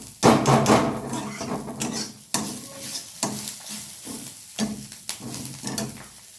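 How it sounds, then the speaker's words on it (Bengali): Sesame seeds fry in a pan as a tempering for chickpea greens, heard as busy, clattering stirs and knocks of a spoon on metal over a thin underlying sizzle. "তিলটা দিয়ে আমি ভালো করে ভেজে নেব।"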